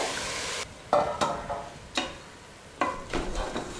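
Washed rice for potato biryani is sautéed in a pan, giving a few distinct scraping strokes of a spoon over a soft sizzle, close and moderately quiet, with no talking.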